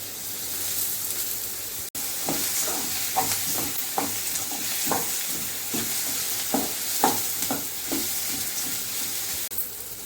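Chopped tomatoes fry in a hot pan for a simple egg dish, a steady close sizzle with repeated bursts of stirring and scraping, no voices.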